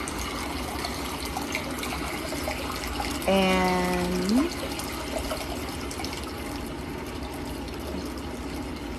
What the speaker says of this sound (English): I'm gonna turn down these water sounds a little bit.